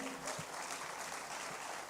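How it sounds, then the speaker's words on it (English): Crowd clapping at a leadership event, a steady dense patter of many hands heard at moderate distance with a faint voice underneath. "Let's clap for Oga Jude."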